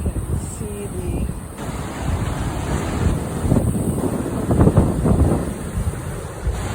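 Ocean surf washes below a sea cliff with small caves, a steady rushing roar heavily buffeted by wind on the microphone, waves swelling and easing without clear breaks, no voices.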